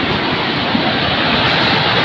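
Strong flood current rushing, a dense, loud, continuous roar of churning water with no breaks.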